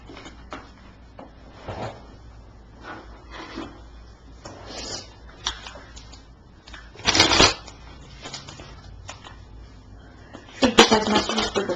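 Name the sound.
shuffling tarot cards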